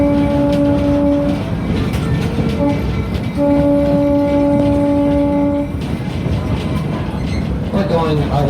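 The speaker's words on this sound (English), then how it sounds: "We're going our way through the crossing, so be sure to wave to Bob as we go across." Colorado Railroad Museum excursion train rolling through a road crossing, its horn sounding in long steady blasts twice over a constant rumble of the moving cars, loud and close.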